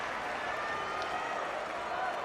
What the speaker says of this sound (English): Applause around the arena.